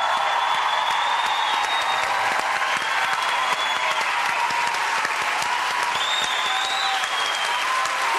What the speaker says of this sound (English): Would you give them a huge round of applause, Michael and Melanie?